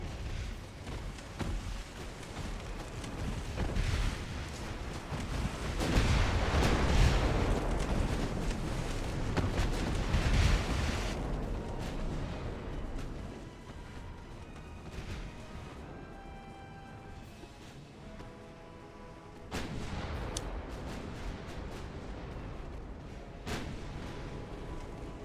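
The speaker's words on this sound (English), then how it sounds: "You guys are going to line up and fire on the," Warship guns firing at heavy cruisers in the naval game Ultimate Admiral: Dreadnoughts, a rumbling wash of distant booms and explosions swelling and fading over a steady low background, without voices.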